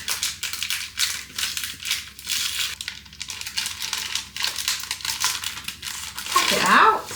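Crinkly, rustling paper as the backing is peeled from a sticker for a magnetic strip, close and continuous with small crackles, under a voice explaining the steps.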